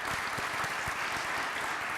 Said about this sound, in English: All of our award winners, another round of applause for them.